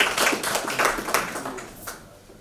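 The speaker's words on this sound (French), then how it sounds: "Sous vos applaudissements." Audience applause welcoming a professor at a French literary meeting, a brief burst of scattered hand claps that thins out and fades within a couple of seconds.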